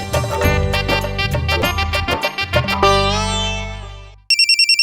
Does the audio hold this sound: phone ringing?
yes